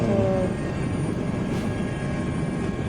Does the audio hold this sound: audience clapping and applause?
no